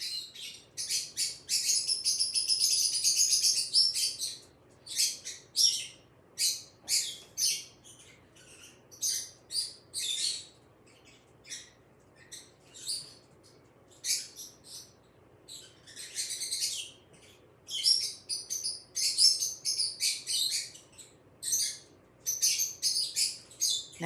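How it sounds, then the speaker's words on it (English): Songbirds chirp outdoors on a summer day, quick repeated tweets and short trills arriving in scattered bursts, some close and some farther off, with nothing else sounding. "so funny that we're doing birds and we have the birds chirping."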